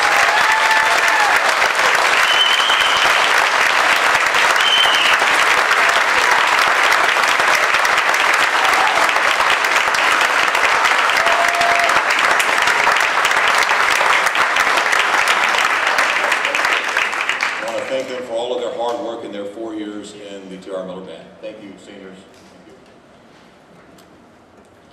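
A high school spring concert audience applauds its graduating band seniors. The clapping is loud and steady for about seventeen seconds, then thins out and fades, while murmured voices and faint stray sounds linger quietly at the end.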